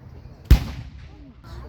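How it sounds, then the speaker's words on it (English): A ceremonial cannon fires one round of a 21-gun salute for America's 250th birthday, a single deep booming blast with a rumbling decay, heard from a moderate distance amid faint outdoor crowd noise. "We are going to witness the 21-gun salute for America's 250th"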